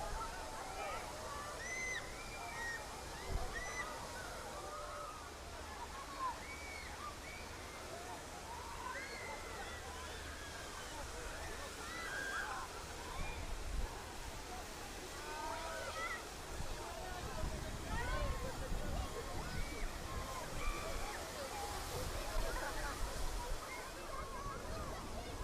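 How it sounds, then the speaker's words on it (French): Water from the Trocadéro fountain's cannons and the waterfalls at the end of its basin in Paris during a heatwave, a steady broad rush and splash heard from a distance under crowd noise, with people chattering nearby. "il y a les chutes d'eau qui se trouvent à l'extrémité du bassin du Trocadéro"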